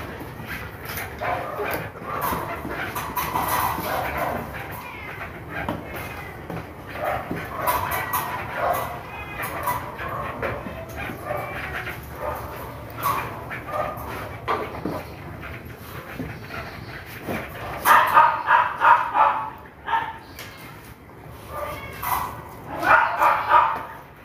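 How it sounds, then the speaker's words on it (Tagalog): Dogs bark in short bursts, loudest near the end, mixed with a steady background noise and some talking. "Ito yung mga aso kong may ingay."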